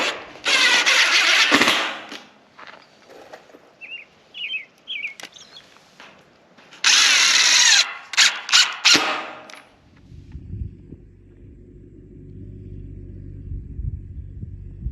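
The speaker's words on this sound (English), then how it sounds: "we're just using 1¼ inch treated deck screw exterior" Power drill driving 1¼-inch treated exterior deck screws into wood for a large raised garden bed, heard as two loud whirring bursts broken by clatter and knocks, followed by a low rumbling hum, with no speech.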